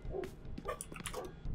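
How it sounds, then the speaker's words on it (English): Dogs bark and whimper in a horror video game, a busy cluster of short yips and barks with some nearby, filling the whole moment without speech. "My dogs are barking."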